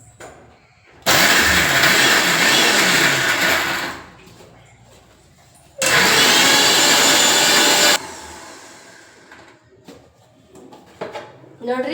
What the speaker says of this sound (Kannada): ಉಪ್ಪು ಹಾಕಿ ಇದು ಹರ್ಕೋತೀನಿ